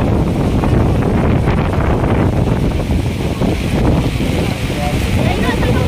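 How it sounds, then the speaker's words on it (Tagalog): Loud, steady wind blasts through trees and their leaves during a sudden Manila rainstorm, a broad, continuous roar that batters the microphone without any break. "Kita nyo po yung mga lakas ng hangin, tinan nyo."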